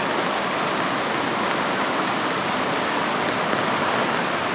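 Flooded river in heavy monsoon rain, a dense, steady roar of rushing water, loud and close, unbroken with no voices.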